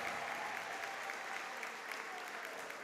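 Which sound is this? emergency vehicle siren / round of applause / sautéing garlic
round of applause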